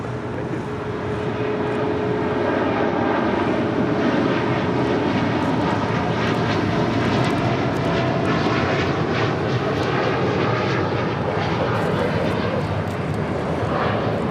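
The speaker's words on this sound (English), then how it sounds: "This is United Airlines 2614 taking off to Newark, 787-10 Dreamliner." A United Airlines Boeing 787-10 Dreamliner takes off from LAX with a loud, steady jet roar that holds level throughout, its broadband rumble carrying a faint whine.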